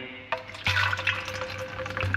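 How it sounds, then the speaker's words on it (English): Car shine liquid poured into a plastic measuring cup, a short close splash and trickle with a few drips, heard alone without talk. "So I'm gonna put 50 in and I'm gonna pop that in here"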